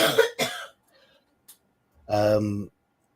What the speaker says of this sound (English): Sounds like my wife has a bit of a chest issue, so I do apologize if you do hear a cough